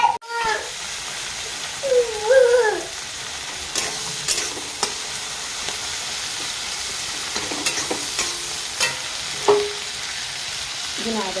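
Tomatoes and green chilies fry in a pan with a steady sizzle, as a spatula scrapes and taps the metal at irregular intervals and a few faint bird-like chirps come from the background.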